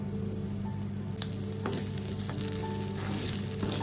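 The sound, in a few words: dried anchovies dry roasting in a pan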